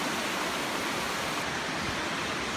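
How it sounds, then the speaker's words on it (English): River rapids rushing through Clifton Gorge, a dense, steady roar of churning water, loud and constant without pauses or voices. "And more rapids down the river."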